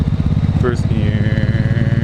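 A motorcycle pulling away in first gear on a road trip, its engine loud and close with a rapid pulsing throb that holds steady, while a rider talks over the engine.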